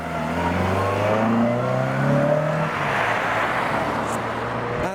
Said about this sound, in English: Mark II Escort making some great noises on its departure.